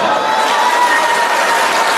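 An audience at a pageant evening, where a queen has just been crowned, fills the room with steady dense applause and crowd noise, loud and continuous throughout.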